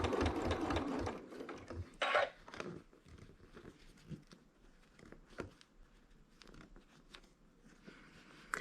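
A sewing machine stitches thick fabric while sewing quilt sashes, its rapid mechanical chatter loud at first and then continuing in shorter, softer bursts with clicks and fabric handling between runs.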